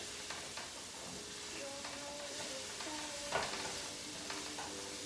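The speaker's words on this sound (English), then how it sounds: "I'm gonna add in a little garlic, just for a minute." Garlic added to translucent onions sizzles quietly in a pan, a soft continuous frying hiss with occasional stirring scrapes and a brief clatter near the middle.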